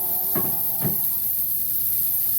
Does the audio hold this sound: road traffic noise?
no